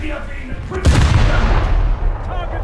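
Warship guns firing in a naval video game: a sharp, loud boom near the one-second mark that rings out into a long rumbling decay, with lighter gunfire thumps before and after.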